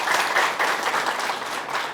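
A training-session audience on the path to millionaire status claps warmly in a continuous, lively round of applause that swells and fades slightly, with crowd noise and no clear speech.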